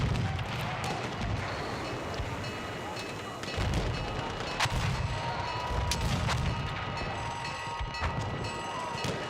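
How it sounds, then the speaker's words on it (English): Mortars and grenades exploding in Battlefield 1, dull booms and crackling blasts rolling through the background of a busy battlefield, fairly faint and continuous, with sharp impacts scattered throughout. "There are mortars. There are grenades. There is gas."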